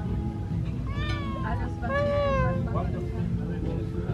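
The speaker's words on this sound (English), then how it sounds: "Oh my god, desert cats are so cute." A desert cat meows twice up close, short rising-and-falling cries over a low background rumble, while someone speaks softly nearby.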